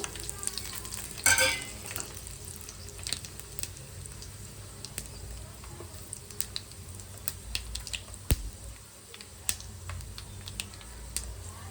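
Mustard seeds, cumin and dried chili pieces fry in hot oil for a mango pickle tempering. The sizzle is crackly and soft, full of scattered pops and spits, with one brief louder burst early on.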